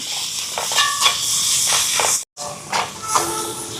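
Crushed ginger and garlic sizzle with onions in a pan for a Jaffna-style whole chicken devil, a steady close hiss with small crackles and one brief dropout.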